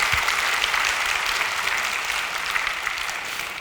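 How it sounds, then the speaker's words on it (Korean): Church congregation applauding during a sermon, a full and sustained patter of many hands clapping together that is loud, close and continuous from start to finish. "하나님께 박수합시다."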